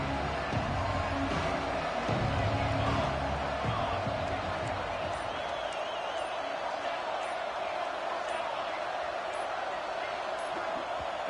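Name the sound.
stadium crowd noise at college football game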